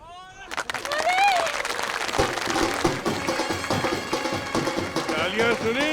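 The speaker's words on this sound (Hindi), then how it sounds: "तालियां सुनी?" Applause from a gathered crowd at a welcome for a visiting dignitary in his birthplace, with music-like tones and voices mixed in, building to a loud, sustained wash of clapping that continues throughout.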